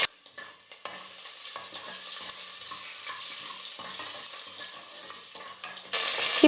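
Garlic and green chillies frying in hot oil in a pan for South Indian variety rice, a continuous close sizzle with frequent spoon stirring and scraping, growing louder near the end, no speech.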